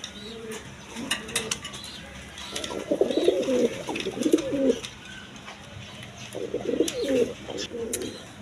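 Raj Golla pigeons coo in low, murmuring bursts, two main phrases roughly a second or two long, over a soft steady outdoor background with faint higher bird chirps scattered throughout.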